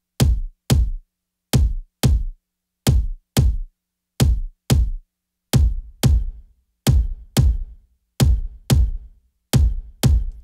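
An unprocessed kick drum sample thumps in a steady pattern of paired hits, each a punchy, deep, fast-decaying boom, loud and alone with silence between pairs.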